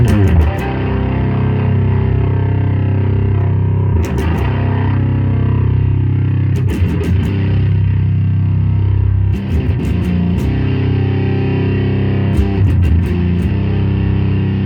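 Electric guitar through a Master Shredder Doom Beast high-gain distortion pedal, thick saturated chugging chords played loud and steady, with sharp pick attacks recurring every couple of seconds.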